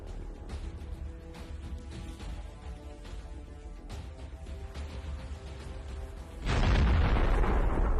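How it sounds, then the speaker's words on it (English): Captured Russian tank firing on and hitting an armored personnel carrier in combat, a rumbling engine and battlefield noise followed by a sudden loud, sustained blast near the end. "One hit is enough to immobilize the armored personnel carrier."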